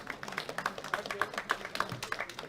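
Audience applauding bench press medalists at a junior men's 74 kg world classic powerlifting championship, a modest, fairly faint patter of clapping with a few crisper individual claps standing out, distant and steady.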